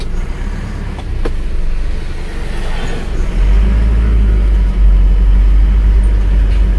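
An Isuzu Panther touring car with a worn engine and faulty brakes drives along, its engine warming up as a steady low rumble that grows louder and heavier partway through.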